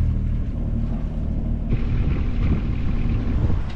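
Wind of about 16 knots on the Gambia River roars into the microphone aboard a sailing boat heading to Banjul, a heavy continuous low rumble with faint engine-like drone underneath and no talking.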